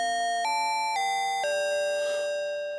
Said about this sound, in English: Get these really bell sounds.